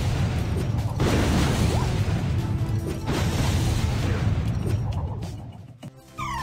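Explosion from a thrown item in Rush Wars, a loud crashing blast with rumbling debris and whooshing effects that carries on for several seconds, then breaks up and fades, with a voice talking over parts of it.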